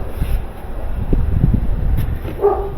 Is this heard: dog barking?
yes